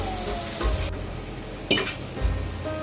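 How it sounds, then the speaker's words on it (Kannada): Onions frying in a pan on a medium flame, a steady close sizzle with a few stirring scrapes and clinks as the spoon moves through, no talking. "ಸ್ವಲ್ಪ ಈರುಳ್ಳಿ ಫ್ರೈ ಆಗೋ ತನಕ ಮೀಡಿಯಂ ಫ್ಲೇಮಲ್ಲಿ ಇದನ್ನ ಇಟ್ಕೋಬೇಕು ಮೀಡಿಯಂ ಫ್ಲೇಮಲ್ಲಿ ಫ್ರೈ ಮಾಡ್ತಾ ಇದ್ದೀನಿ ಇದನ್ನ"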